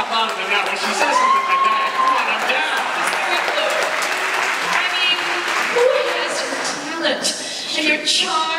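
Concert audience claps and cheers steadily throughout a pops orchestra performance of a song, a dense, fairly loud wash of applause with scattered shouts and voices mixed in.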